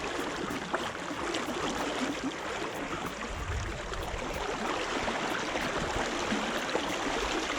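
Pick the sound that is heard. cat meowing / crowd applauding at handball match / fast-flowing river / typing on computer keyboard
fast-flowing river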